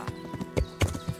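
A horse's hooves clip-clop in a short, uneven run of a few close knocks in a medieval video game.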